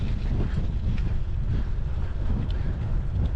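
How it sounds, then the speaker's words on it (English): Wind buffets the microphone on a hilltop above a lake, a steady low rumbling roar filling the whole stretch with no clear breaks. "a bit of wind up here."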